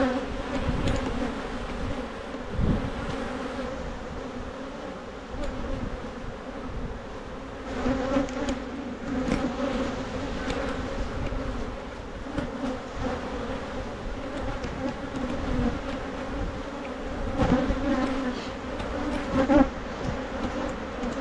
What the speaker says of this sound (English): They are beautiful light colored bees too.